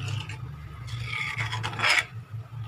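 A spoon stirs lentil ball curry in a pot, making repeated close rasping scrapes against the pot over a low, steady hum.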